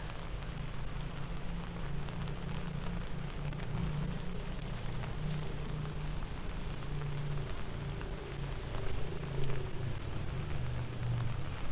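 Steady rain falling on surfaces outdoors in Phuket, Thailand, a dense and even patter that continues for the whole stretch with no voices.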